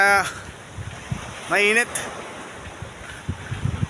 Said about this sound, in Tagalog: Medyo mahangin dito guys